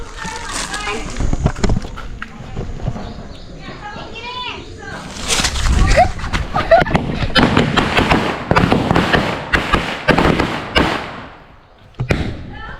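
Firecrackers going off during a village Ganesh festival celebration in Kolhapur, a series of sharp bangs and crackles mixed with loud chatter and children's voices around them.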